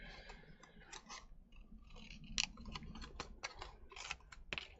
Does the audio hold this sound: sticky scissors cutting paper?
yes